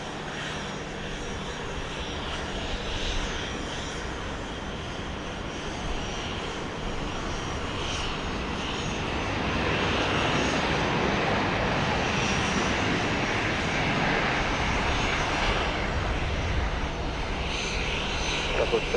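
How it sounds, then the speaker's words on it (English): Boeing 737-700 airliner arriving at Dallas Love Field at night, a continuous loud jet engine roar that swells in the second half as the plane nears, with faint radio chatter underneath. "Another 737-700, this one coming in from Charlotte,"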